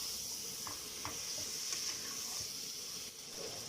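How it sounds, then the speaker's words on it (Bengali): Boal fish and spices being stirred in a frying pan, a steady sizzle with scraping stirring strokes throughout, close and alone. "এখন আমি মাছটা ভালোভাবে নেড়ে চেড়ে নিব"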